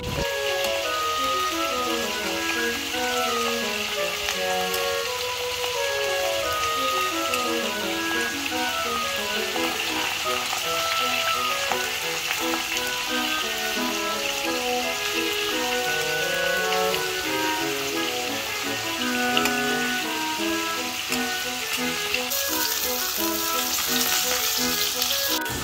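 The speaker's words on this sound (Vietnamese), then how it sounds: "Trong lúc chờ đợi thì mình sẽ đi chiên khoai cao và chiên sake nha các bạn." Taro pieces deep frying in a pan of hot oil, giving a steady, dense sizzling crackle like heavy rain that runs unbroken and loud for the whole stretch, with no voices.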